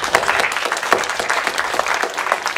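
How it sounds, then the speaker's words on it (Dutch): A Pentecost conference audience claps warmly in a brisk, continuous round of applause, moderately loud and close, with no talk over it. "Ontvang haar met een hartelijk applaus."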